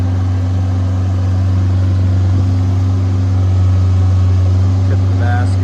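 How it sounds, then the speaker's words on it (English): Deutz diesel engine of a 1999 JLG 600S boom lift running at a steady idle, a loud, low, constant hum with an even drone and no change across the span. "Deutz diesel, real good sounding motor."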